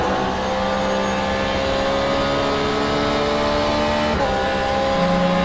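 A GT3-class race car engine from an on-board sim racing view, run at sustained high revs with steady harmonic drone, a brief gear-change dip near the end, loud and continuous with no talk.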